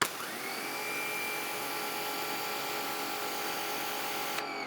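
A wall-mounted pressure washer sprays steadily through a 0-degree nozzle at power setting 5, a continuous loud hissing roar with no pauses, heard close up without talk.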